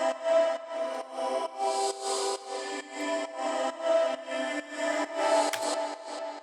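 Vocal chops blurred in FL Studio's Edison into an atmospheric effect form a soft, smeared wash of sustained voice-like tones, swelling and fading in gentle repeated pulses, fairly quiet and alone.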